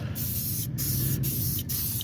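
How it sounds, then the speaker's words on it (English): Clear coat sprayed in steady bursts onto a bronze-finish diamond cut wheel rim with the calipers masked off, a close, continuous aerosol hiss broken by a few brief pauses. "throw the clear coat on it"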